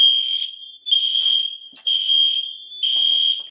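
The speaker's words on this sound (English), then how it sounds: "Well, that's a fire alarm system." A workplace fire alarm system sounds loud and alone in repeated long electronic tones, each about a second, separated by brief gaps.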